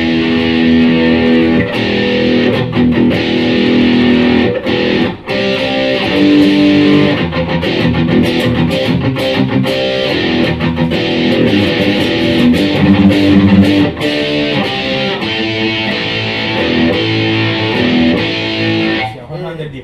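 A distorted electric guitar played through a T-Rex distortion pedal plays thick, gritty chords and riffs continuously and loudly, with sustained crunchy tone throughout.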